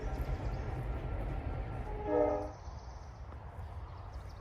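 A train passes near an old canal in Cuyahoga Valley National Park, Ohio. A steady low rumble runs throughout, and a brief horn-like tone swells midway through, heard from a moderate distance.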